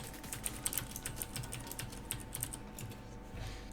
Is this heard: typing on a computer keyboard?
yes